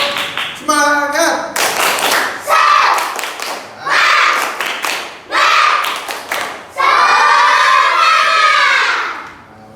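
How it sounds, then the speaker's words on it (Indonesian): Children in a classroom clap together in a rhythmic patterned cheer, bursts of loud, close, synchronized claps broken by short pauses, with children's voices shouting along in between. "Tepuk tangan buat semuanya."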